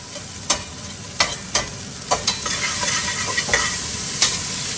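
Lemongrass frying and being stirred in an oily pan for a beef stew, a steady close sizzle broken by several sharp scraping clicks of a utensil against the pan.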